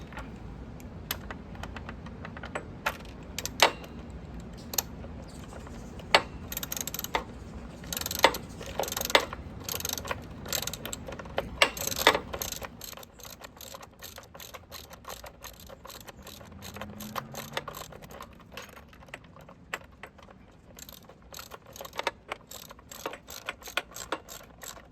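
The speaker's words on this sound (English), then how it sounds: "now we're gonna tighten it up using the 10mm wrench and the socket wrench" Socket wrench ratchet and 10mm wrench tightening a nut on a bike battery lock kit, giving rapid irregular clicking and ratcheting bursts close up, busy at first and then sparser clicks, with no talk.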